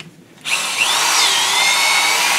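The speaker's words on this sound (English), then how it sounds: "we got a drill with the reamer on it, 3/8 reamer" Power drill fitted with a 3/8 reamer spins up sharply and grinds steadily through an engine valve guide on a 454 big block, loud and close with a rising whine.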